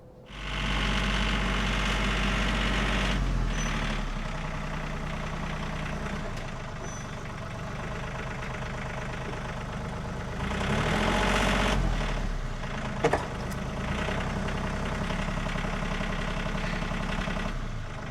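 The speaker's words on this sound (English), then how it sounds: "I think I'm gonna run grab the tractor real quick and pull this out" Tractor engine idling near a backyard work site, a steady low rumbling drone that swells and revs at times, with a brief clank partway through and no talk.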